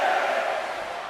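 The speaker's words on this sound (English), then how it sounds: "when you can't hear yourself think because the crowd's so loud" Loud arena crowd cheering and roaring in the WWE 2K25 wrestling video game during a 1v1 match, a dense continuous wash of noise that slowly eases off.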